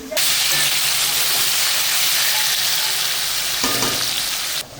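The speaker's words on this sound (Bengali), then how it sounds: "আলু ভাজা হচ্ছে" Potatoes fry in a pan with a loud, continuous hiss and sizzle held close throughout before cutting off at the very end.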